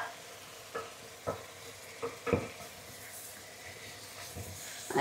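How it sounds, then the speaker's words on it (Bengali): Spice masala being fried in a pan, with prawns about to go in: a soft steady sizzle punctuated by several distinct scraping stirs of a utensil against the pan, fairly close and moderately quiet. "মশলাটা কষায় যাক"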